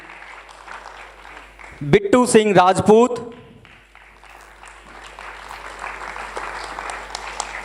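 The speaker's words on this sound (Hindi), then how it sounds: "तालियां बजती रहनी चाहिए कलाकारों के बेहतरीन अभिनय के लिए।" An audience at a staged Hindi play about the Rani of Jhansi claps for the actors, steady applause running underneath an announcer naming cast members, with a brief loud voice burst partway through.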